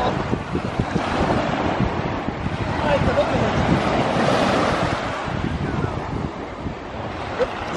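Sea waves wash onto an Italian shore under heavy wind buffeting the microphone, a loud rough continuous roar that surges and eases.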